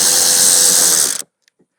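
A power driver fitted with a T27 Torx bit whirs loudly and steadily for about a second while working on a panel of a John Deere X739 lawn tractor, then cuts off abruptly into silence.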